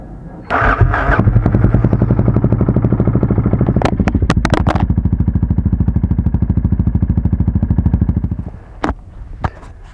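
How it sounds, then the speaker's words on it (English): A Yamaha XT660R motorcycle running with almost no engine oil cranks, catches and idles loudly up close with a steady clattery thump for several seconds, then shuts off, followed by a few sharp clicks. "Okay, engine sounds weird, but not a single drop so far"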